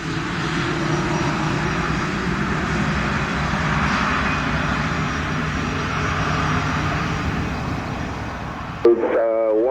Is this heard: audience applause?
no